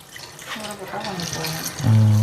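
Dried vanjaram fish soaking and being rinsed in hot water, close sloshing and pouring water that grows louder toward the end, with a voice briefly audible.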